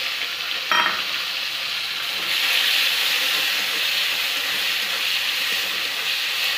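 Tomatoes, curry leaves and ground spices sizzle and fry in a hot pan for a South Indian–style tomato chutney tadka, a steady hiss that brightens after a brief clatter near the start.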